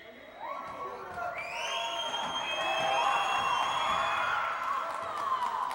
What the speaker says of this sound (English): This crowd has really come alive the last 5 minutes.